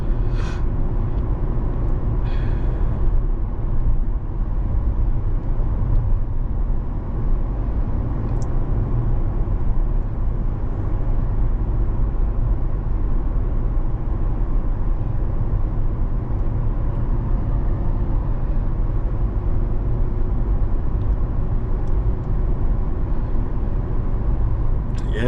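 A car cruising along a quiet, uncrowded road on a calm weekend day, its steady engine and road rumble filling the cabin continuously and evenly throughout.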